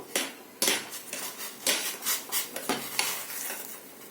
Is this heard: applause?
no